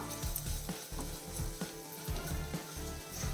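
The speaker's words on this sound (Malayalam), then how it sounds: "കണ്ടോ, പൊടികളൊക്കെ നല്ല രീതിയിൽ മൂത്തിട്ടുണ്ട്." Spice powders with fennel powder fry in a pan, making a low, quiet sizzle with gentle, rhythmic stirring scrapes running throughout.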